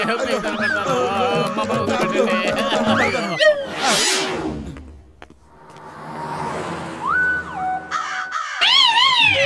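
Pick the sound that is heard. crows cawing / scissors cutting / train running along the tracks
crows cawing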